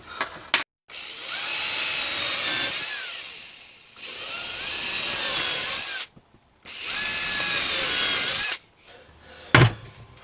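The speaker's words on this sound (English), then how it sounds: "I want to drill a small hole first." A power drill bores small holes, whining in three long, loud bursts of about two to three seconds each with brief pauses between, its pitch wavering under load, followed by a short clack at the end.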